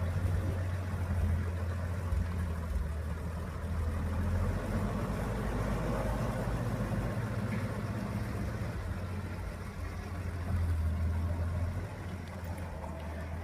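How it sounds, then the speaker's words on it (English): A 1943 Humber heavy utility military vehicle engine idles low and even, purring steadily nearby, with a deep hum that barely changes throughout. "Absolutely beautiful, purring."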